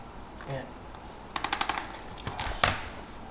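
Joint cracking in a golden retriever with arthritis during a chiropractic adjustment, heard as a quick run of faint, close popping clicks followed by a couple more isolated cracks over quiet background noise.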